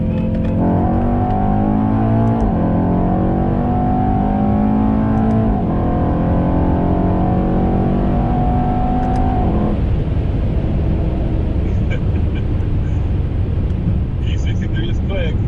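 A Mercedes E63S accelerates hard in a race against a BMW M2 G87, a loud, steady engine roar climbing in pitch through gear changes, then settling into a broad drone of wind and road noise.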